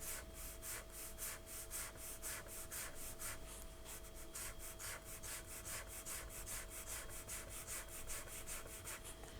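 A pen draws rapid repeated strokes on paper, making a soft rhythmic scratching at an even pace with steady, close, quiet rubbing under a faint constant hum.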